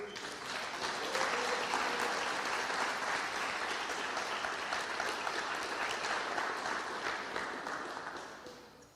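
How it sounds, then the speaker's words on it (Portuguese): A church congregation claps together in a sustained wash of applause that holds steady for several seconds, then fades away near the end. "Vamos dar um aplauso a Jesus?"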